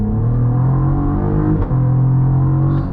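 A 2024 Cadillac CT4-V Blackwing, roughly 475 horsepower, launches hard with a loud, close exhaust roar. The engine note climbs steadily, breaks briefly at a gear shift, then pulls on strongly.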